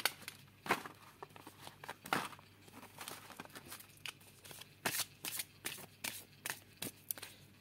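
Oracle cards are shuffled by hand for a love card reading, with soft riffles and papery flicks arriving in quick irregular bursts, close and fairly quiet, with no voices.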